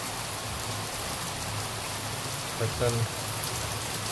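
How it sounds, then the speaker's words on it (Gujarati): Heavy rain pours down in a dense, steady hiss, with a brief faint voice murmuring under the downpour near the end. "જોરદાર વરસાદ પડી રહ્યો છે"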